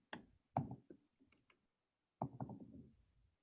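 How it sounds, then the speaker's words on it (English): Keyboard typing at a computer, heard as scattered near clicks and a short burst of keystrokes, with gaps of quiet between them. "I'm typing, guys, but it's just not coming up yet."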